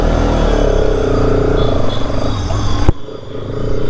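Bajaj RS200 motorcycle engine running steadily close by, a loud dense low rumble that holds for about three seconds before a sharp cut, then a lower idle-like hum.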